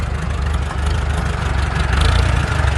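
A small engine fitted with a new Chinese carburetor idles loudly and close, a steady low rumbling putter with a slight pulsing unevenness, running alone without voices.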